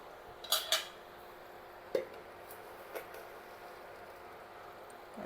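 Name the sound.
spoon adding sugar to milk for carrot halwa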